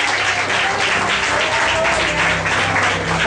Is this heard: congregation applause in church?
yes